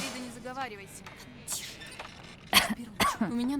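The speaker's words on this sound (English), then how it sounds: "I don't like the sound of that cough." A character coughs and clears the throat in the video game Torn Away, short rough bursts scattered between dialogue, with voices talking around them.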